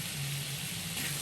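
Roasted peppers, garlic and onion cooking in a knob of butter in a pan, a faint, even sizzle with a low steady hum underneath, no talking.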